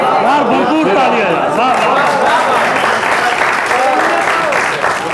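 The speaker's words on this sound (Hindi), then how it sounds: "यार भरपूर तालियां" An audience at a poetry gathering in a literary tea house applauds loudly and steadily. Spoken voices and exclamations of approval rise over the continuous clapping.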